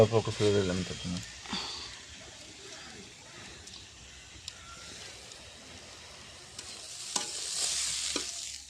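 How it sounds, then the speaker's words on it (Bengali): Radish and radish greens frying in a pan, an uneven sizzle with occasional stirring scrapes, a brief voice at the very start, then the sizzle swelling louder toward the end. "মূলো আর মূলো শাকটা ভাজা করতেছি"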